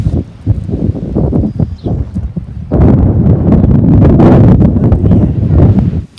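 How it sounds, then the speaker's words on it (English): Strong coastal wind buffets the microphone with a steady, loud rumble, gusty at first and then a sustained roar for the second half, with no talk. "it's very windy here on the coast"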